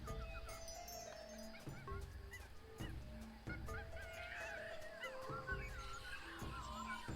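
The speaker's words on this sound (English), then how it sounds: "You can hear the bird more than anything else." A bird honks repeatedly in a noisy jungle scene in the video game Tales of Monkey Island, goose-like calls over a busy bed of chirps and ambient game sound.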